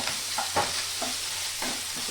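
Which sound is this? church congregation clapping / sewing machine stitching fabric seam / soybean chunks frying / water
soybean chunks frying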